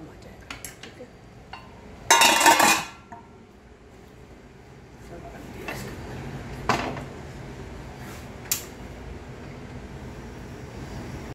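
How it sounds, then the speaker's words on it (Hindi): A cooking pot of beef pulao is set down onto a hot tawa griddle with one loud, brief clatter of metal on metal, followed by a quiet kitchen hum and a few soft clinks. "अब हम इसको तवे के ऊपर पतीले को रख दूंगी"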